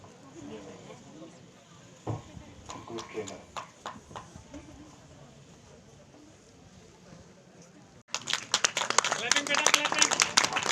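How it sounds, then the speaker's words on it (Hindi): Audience applause at a school prize ceremony for meritorious students at a government inter college in Manila, breaking out suddenly as dense, bright clapping after a stretch of murmuring, scattered claps and background voices. "जरा तालियां बजाने में आप लोग कंजूसी मत कीजिए"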